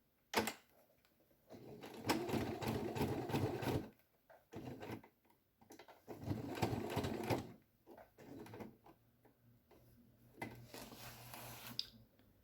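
A sewing machine topstitches fabric for a school pencil case in several close, rapid bursts of mechanical stitching separated by pauses and small handling clicks.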